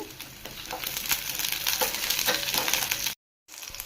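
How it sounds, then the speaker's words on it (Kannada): A cup of sambar onions fries in oil for a village-style mutton sambar, a dense crackling sizzle with stirring scrapes throughout, cut off briefly near the end before resuming. "ನಾನು ಸಾಂಬಾರು ಈರುಳ್ಳಿ ತೊಗೊಂಡಿರೋದ್ರಿಂದ ಒಂದು ಕಪ್ ಸೇರಿಸ್ತಾ ಇದ್ದೀನಿ ಫ್ರೈ ಮಾಡಬೇಕು"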